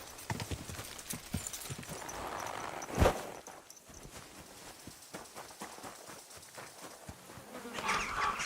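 Bees buzz in the video game Kingdom Come: Deliverance II as a faint, steady drone that sits under hoof clip-clops and other ambient game sounds.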